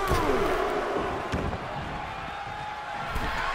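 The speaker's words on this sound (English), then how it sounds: "The sound of this crowd is deafening, and he's asking for more." A loud, roaring arena crowd cheers continuously at a combat sports event, a dense wall of noise with faint thuds and shouts mixed in throughout.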